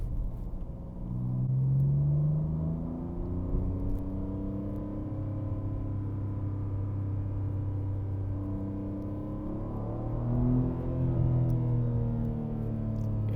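Low engine rumble from a BMW G80 M3 with rear-wheel drive and a six-speed manual on summer tires, heard from inside while driving on a road, rising and falling through gear changes and revs, with no talk.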